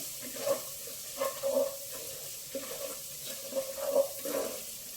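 Onion, ginger and garlic fry quietly in a pan, a soft sizzle broken by several brief scraping stirs of a spoon, with no talk.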